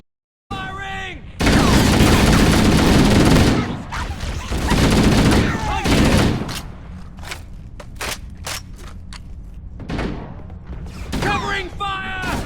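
Heavy firefight gunfire in Halo CE Anniversary, dense bursts of automatic fire and booming explosions that swell loud, fade, then return in scattered volleys, with shouted voices between bursts.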